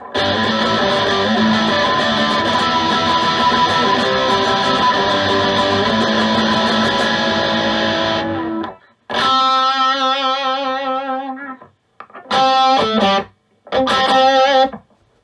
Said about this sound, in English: Super overdrive going into the hustle drive.